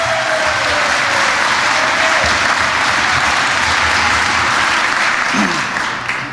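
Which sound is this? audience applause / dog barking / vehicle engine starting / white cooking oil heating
audience applause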